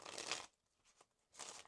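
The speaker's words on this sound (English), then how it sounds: "give it a little shuffle" A deck of tarot cards is shuffled in two quick faint riffling bursts separated by a short quiet gap, with no voices.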